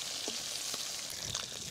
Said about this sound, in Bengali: এখন মাগুর মাছ ভেজে নিব।